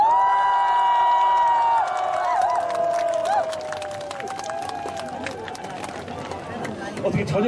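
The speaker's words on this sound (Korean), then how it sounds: "다시 한번 저희들이 박수와 환호 함성 들어보겠습니다" A festival crowd at the Mapo salted-shrimp festival roars with a long, loud cheer of shouts and whoops, trailing off into scattered clapping and calls.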